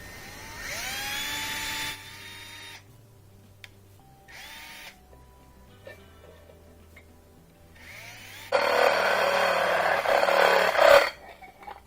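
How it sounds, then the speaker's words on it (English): A power drill whines loudly in two bursts near the start, then a longer, louder grinding run as it bites into a plastic container, with quiet handling in between. "Use a drill to start it."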